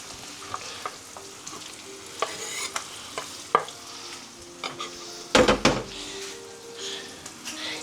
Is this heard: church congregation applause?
no